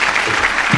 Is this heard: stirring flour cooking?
no